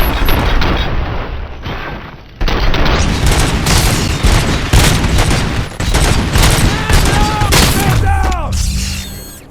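Dense gunfire from the RoboCop: Rogue City video game, with rapid overlapping shots and booming blasts crowding nearly every moment, a short lull early on, then more bursts and metallic ringing near the end.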